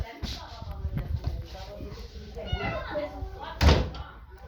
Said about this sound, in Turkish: Kapıyı kapat.